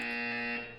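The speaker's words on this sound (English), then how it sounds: "You will hear a buzzer." A buzzer sounds in a Portal game test chamber, a single loud, steady electronic tone with rich harmonics that holds for about half a second, then fades away.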